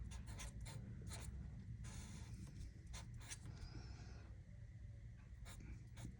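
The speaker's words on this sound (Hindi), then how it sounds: "आपने मिर्च लिखा।" Soft, quiet scratching strokes of a pen or pencil writing the word mirch by hand, with brief bursts and pauses between letters, close up and without talking.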